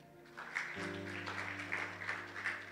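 A church congregation claps in praise during a sermon, a soft, steady patter heard at a distance, with a sustained low hum running beneath it.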